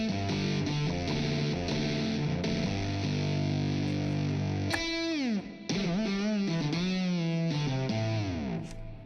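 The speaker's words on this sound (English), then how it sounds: "This is a cool distortion." Heavily distorted synth tones run through the Swanky Amp distortion effect in the Unify synth plugin, with sustained buzzing chords and then pitch-bending lead notes that swoop down and up, loud and continuous.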